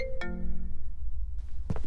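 A mobile phone rings with a short electronic tone of sustained harmonic notes, followed by a quieter stretch and a brief clatter near the end.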